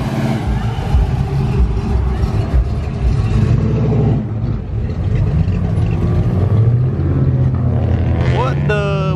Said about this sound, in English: my god, we got another Pandem FRS rolling up. And he's rolling deep. Supra and a wide body Camaro